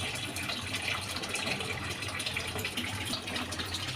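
Steady gush of water pouring from a tap to fill for a bath, a continuous close, loud broadband rush with no pauses.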